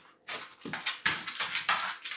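A large dog whimpering and whining during a squabble with a big cat in a kitchen, with short, close, repeated yelps and whines in quick succession.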